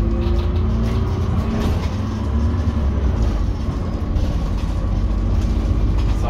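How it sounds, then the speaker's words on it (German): A MAN NL263 city bus engine runs steadily with a low droning rumble while the gearbox shifts cleanly, a continuous close, moderately loud vehicle sound with no talking. "Sauberes Schalten vom Getriebe"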